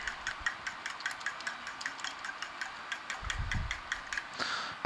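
A fork beating eggs in a bowl for a French toast casserole gives quick, evenly spaced metallic clicks against the bowl, steady and close, with a brief low thump near the end and no talking.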